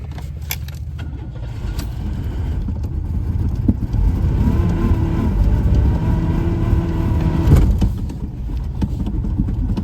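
A 1993 Oldsmobile Cutlass Ciera engine idles steadily and loudly with a low rumble, briefly swelling as the car is shifted into reverse, with a few faint clinks over the running motor.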